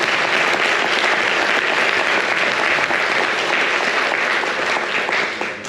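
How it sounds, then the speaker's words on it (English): A tech summit crowd gives a sustained round of applause, loud, full clapping from many people that holds steady for several seconds before tapering slightly at the end. "I would love to just give a round of applause again for everybody."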